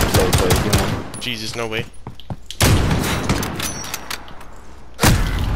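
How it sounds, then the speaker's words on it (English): Pistol shots crack out in a first-person shooter, in rapid bursts before and after a brief gap, loud and close, with a voice talking in between. "with all those pistol shots"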